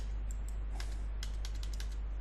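A single W key tapped on a computer keyboard in Maya, a few light clicky keystrokes over a constant low electrical hum.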